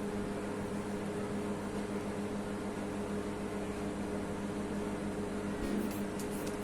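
A microwave oven runs at full 900-watt power, giving a steady, quiet, unbroken hum and fan whir that stays even throughout, with a faint clink near the end.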